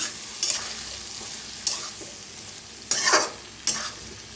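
Stuffed ridge gourd roasting in oil in a pan, a steady soft sizzle with four sharper bursts of stirring and scraping spaced about a second apart.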